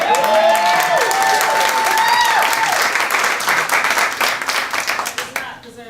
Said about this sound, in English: Does not deserve an applause.